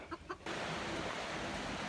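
Barred Rock hens in a coop give two short, close clucks, then a steady broadband rush of noise fills the rest.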